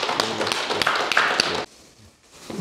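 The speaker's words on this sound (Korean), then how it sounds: "이 자리에 박수로 모시겠습니다." A small audience at a Buddhist dharma lecture claps to welcome a fellow practitioner to the front, with distinct, fairly quiet hand claps for about a second and a half before the room falls nearly silent.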